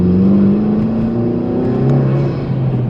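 A Honda Civic Type-R FK2 engine pulls hard under acceleration, its loud, steady drone rising gradually in pitch over a few seconds, close and continuous with no talking.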